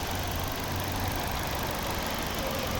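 A 2010 Volvo V50 with a 1.6-litre petrol engine and five-speed manual idles steadily, a continuous close mechanical hum with an even, unbroken low drone and no voices.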